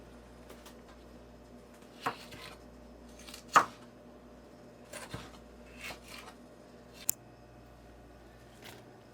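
Knife chopping ghost peppers, onion and garlic on a board for a homemade sauce, a handful of scattered, fairly quiet cuts with pauses between them and no talk.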